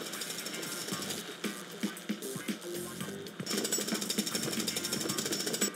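Rapid mechanical jackhammer pounding from the Lego City Undercover video game, steady and loud for the whole stretch, growing denser and more intense in the second half.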